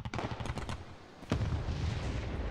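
Gunfire in a tank video game aimed at a German Kugelblitz anti-aircraft tank: a quick run of sharp shots, a brief lull, then a heavy booming hit followed by rumbling.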